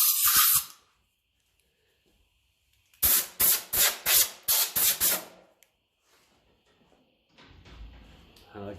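A compressed-air nozzle blasts loose debris off a part from a 1957 Ferguson 35 TVO tractor, in a series of about six short, loud hissing bursts in a quick rhythm, with brief noises before and after.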